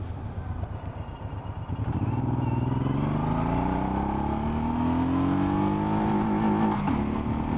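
A Suzuki M90 motorcycle winds up in first gear toward its rev limiter, the engine note rising steadily and loudly from a rough idle-like rumble, then cutting back sharply at the limiter near the end.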